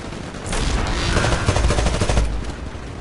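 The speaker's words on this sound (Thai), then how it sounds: "อันนี้ก็เป็น R101 คาบายนะปืนแบบสแตนดาร์ด" Rapid bursts from an R101 carbine in Titanfall, a dense stream of close, loud automatic shots lasting a couple of seconds.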